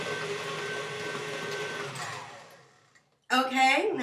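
An electric hand mixer beats mashed potatoes with milk, a steady whirring drone that fades and stops, followed by a burst of speech right after.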